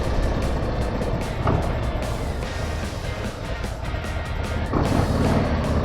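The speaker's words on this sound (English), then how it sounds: "this is the first ride for me on the 25 Harley-Davidson Low Rider ST" A 2025 Harley-Davidson Low Rider ST motorcycle on a test ride gives a continuous loud engine rumble mixed with heavy wind noise, steady throughout with slight surges.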